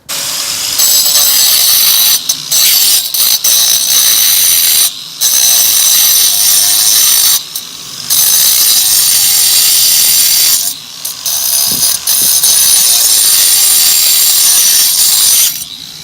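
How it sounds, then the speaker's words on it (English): Right angle grinder with a diamond blade cutting in an outdoor garden setting: loud, harsh, continuous high-pitched grinding close by, broken by several short pauses where the blade lifts off, with no talk. "So now I'll try the right angle grill with a diamond blade."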